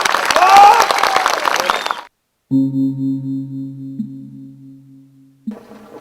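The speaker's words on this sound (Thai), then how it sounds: "ปรบมือลงไปครับ" A studio audience on a Thai television program about a Karen singer claps briefly for about two seconds, with voices mixed in. The applause cuts to silence, and then steady electronic tones follow.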